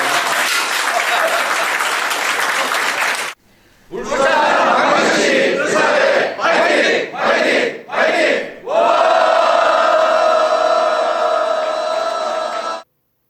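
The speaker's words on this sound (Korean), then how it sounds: "큰 박수 부탁드립니다." Loud applause and cheering break out at a ribbon cutting for the opening of the Ulsan Medical Association building, coming in bursts separated by short cuts, then ending in a steadier, even sound.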